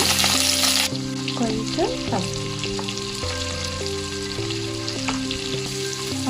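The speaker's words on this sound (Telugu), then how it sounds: "తర్వాత ఒక ఉల్లిపాయ, ఒక 4 పచ్చిమిర్చి వేసాను." Chopped onion and green chillies with tempering seeds frying in hot oil in a kadai for a coconut brinjal curry, a steady close sizzle with stirring scrapes, background music throughout and a brief word spoken.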